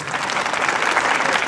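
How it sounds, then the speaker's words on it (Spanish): A gala audience applauds a band conductor at a Peruvian music celebration: dense, steady clapping from a large crowd fills the whole stretch, loud and continuous without a break. "Aplausos para el maestro Luis Enrique Vargas Guevara."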